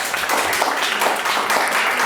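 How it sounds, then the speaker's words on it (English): An audience at an art show opening applauds, a dense, steady wash of many hands clapping close by with no pauses. "give them a round of applause"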